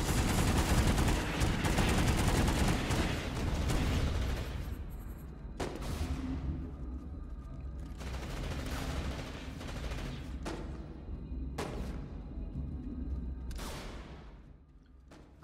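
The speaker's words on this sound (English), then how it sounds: "Here's the underbarrel smoke grenade launcher on high settings." Underbarrel smoke grenade launcher firing in the game Planetside 2: a long dense hissing burst at the start, then several separate sharp pops or thumps spaced a couple of seconds apart, each trailing off, fairly faint overall.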